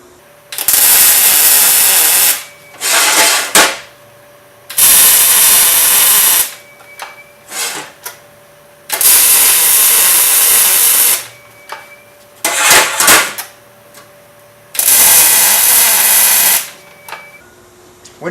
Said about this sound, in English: So before you just go start welding, and get a couple more tacks on her